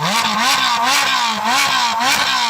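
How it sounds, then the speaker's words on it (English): A loud flat-plane crank V8 engine revs repeatedly in quick surges, its high, rising wail climbing and dropping several times in a steady rhythm, close and continuous. "A flat plane crank has its throws 180 degrees apart, enabling faster revs and a higher pitched wail."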